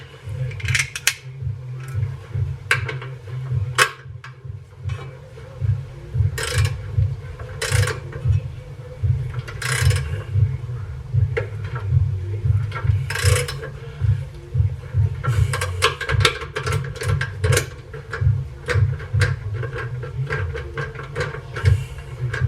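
A socket wrench works on Miata coilovers, giving repeated metallic clicks and clanks over a steady low hum, close by, with no talking.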